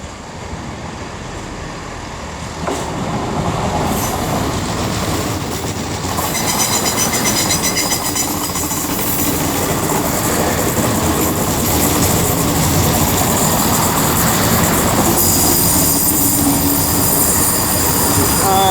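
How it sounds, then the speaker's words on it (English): A Transport for Wales train moves through Wolverhampton station on the West Coast Main Line, its loud rumble building steadily with rail clatter and a wheel squeal against busy platform ambience. "Transport for Wales service from Birmingham International to Holyhead."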